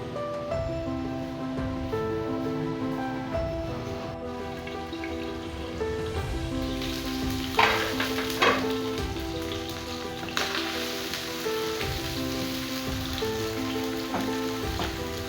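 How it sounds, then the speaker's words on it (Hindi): Steady crackling sizzle of chopped onion frying in a pan, continuous throughout, with tonal background music layered underneath. "इसे 1 मिनट तक फ्राई करें।"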